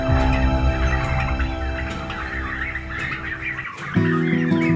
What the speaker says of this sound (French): Donc c'est les dindons de 3 mois.